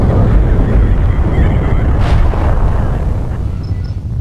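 A transport ship blows up in the space combat game Independence War, a loud, rumbling blast that swells with a sharp crack near the middle, then rolls off into a dull, sustained roar.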